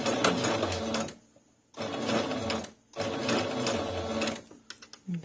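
A sewing machine back stitches over a seam on fabric for a stuffed toy sloth, running in three loud, close bursts separated by short pauses, ending with a few quick clicks.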